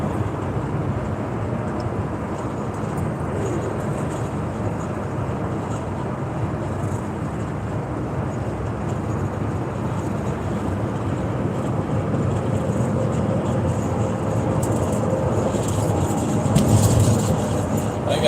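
A car cruises south along a highway, heard from inside the cabin: a continuous, even road and engine roar with tyre noise that swells slightly near the end.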